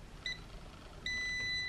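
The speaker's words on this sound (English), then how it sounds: "this beeps and tells you when it thinks that you should" An automatic hair curler gives a short electronic beep and then a longer sustained beep, both clear and close over a faint background hiss.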